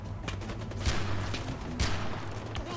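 Far Cry 4 gunfire, with two sharp shot bursts standing out over a continuous din of game battle noise and background hum.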